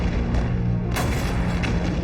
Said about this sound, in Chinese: 美军集中数十门火炮，近20辆坦克向3连阵地猛烈轰击